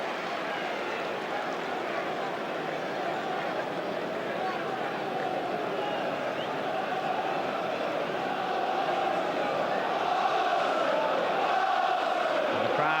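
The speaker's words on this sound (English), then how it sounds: "And the crowd trying to give Arsenal that little extra lift here" A football stadium crowd at a 2003/04 Premier League match between Arsenal and Newcastle roars and chants in a steady, broad wash of noise, with a commentator talking over it.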